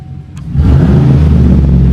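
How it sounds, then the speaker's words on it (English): Chevy Silverado engine started and revved with the stock exhaust removed, a sudden loud, raw open-pipe roar that jumps in after a brief quiet moment and holds at full volume. "Every time you take the exhaust off, you got to do the obligatory start up without an exhaust."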